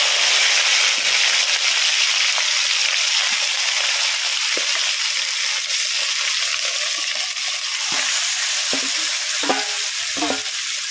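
Spiced desi chicken fries in hot mustard oil in a wok, a loud, continuous sizzle close by, with scraping and clattering stirring sounds toward the end and no talking.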